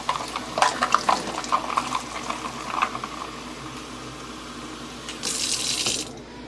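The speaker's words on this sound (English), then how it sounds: "I just do 1 pump of that and some hot water from the tap." Hot tap water runs into a kitchen sink with a pump of dish soap while jars are washed before water bath canning of tomato soup. It is a steady rush with a few clinks, swelling louder near the end.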